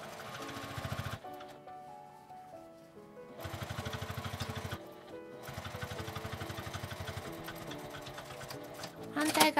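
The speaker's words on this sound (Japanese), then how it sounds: "開いて表側だけ端ミシンをかけます。" A home sewing machine runs edge stitching along the right side of fabric, with the seam allowance pressed toward it, in three bursts of fast, even mechanical chatter separated by brief pauses, the last one long and steady.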